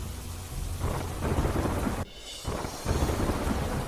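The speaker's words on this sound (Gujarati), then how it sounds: "અંબાજીના દાંતામાં મુશળધાર વરસાદ ખાબક્યો" Heavy monsoon downpour in Danta near Ambaji, Gujarat, with a steady roar of rain and low rumbling thunder, broken by a brief dip in the middle before the loud deluge resumes, with no voices.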